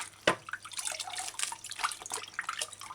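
Water splashing and draining from a bowl of soaking red cabbage, opening with a sharp splash and continuing as a steady, close-up trickle and slosh with no talk.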